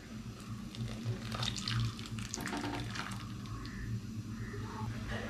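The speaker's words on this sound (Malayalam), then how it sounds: "ഇതിലേക്ക് നമുക്ക് പാലൊഴിച്ചു കൊടുക്കാം." Milk streams into a pot of oats soup, a continuous close splashing pour that runs for several seconds without talk.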